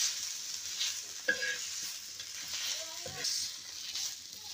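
Green chillies fry and get stirred in a hot pan, a steady soft sizzle with a few scraping stir strokes, no talking.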